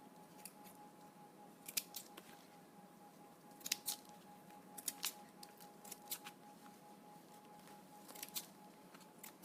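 Scissors snip at moss in a series of quick, crisp cuts, irregularly spaced and fairly close, over a quiet room with a faint steady hum.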